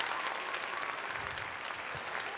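Applause on a music and rap news show, a fairly faint continuous patter of clapping with no voices over it.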